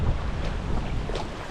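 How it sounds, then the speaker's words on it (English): A strong 30-mile wind gust sweeps across a big South Florida canal, a loud continuous roar of buffeting noise on the microphone with no talking. "This is one of those 30-mile gusts I was telling you about."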